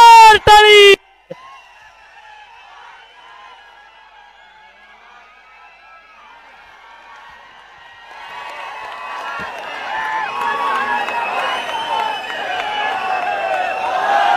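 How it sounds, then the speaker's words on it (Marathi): Crowd at a Sharad Pawar election campaign rally for the Hadapsar assembly seat near Pune, cheering and clapping, starting low and swelling into a louder, sustained roar after a brief voice at the start. "जोरदार टाळी."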